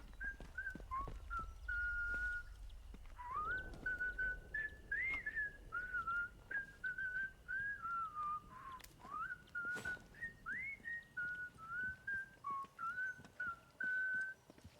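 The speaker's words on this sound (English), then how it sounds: "Dude cannot whistle." A character in the video game Atomfall whistles poorly, a wavering, off-pitch tune in short repeated phrases with scattered clicks, alone and fairly clear.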